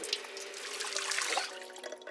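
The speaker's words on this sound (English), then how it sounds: "the sink drinking noise has been turned down as previously it was quite loud" A sink's drinking-water sound from the video game Project Zomboid: a soft, steady run of trickling tap water, continuous and fairly quiet for about two seconds.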